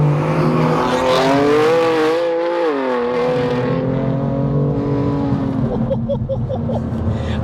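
Tuned 650 bhp BMW M2 Competition engine on boost, loud and continuous with rising and falling harmonic pitch, revving hard then easing, heard from inside the car with no talk over it.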